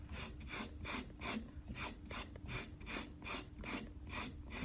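Rhythmic back-and-forth rasping from sanding a hammerhead by hand, about two strokes per second, close and quiet, with no talking.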